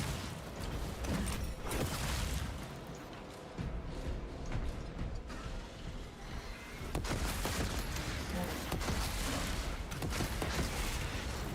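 Heavy, continuous gunfire and explosive bursts from the video game Space Marine 2, a dense, loud wash of rapid shots with brief dips and swells throughout.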